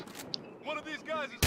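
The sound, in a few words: shotgun firing in Battlefield Hardline video game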